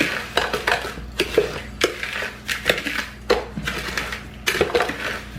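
A spoon stirs sugar into a lime pickle mixture with cloves and allspice, producing a run of uneven scraping, crunching strokes and clinks against the container, close and fairly loud, with no talking.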